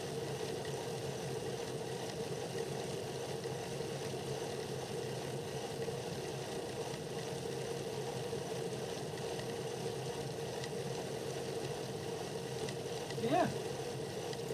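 A steady mid-pitched engine idles at an even, unchanging level throughout, with a brief faint knock or tap just before the end and nobody speaking.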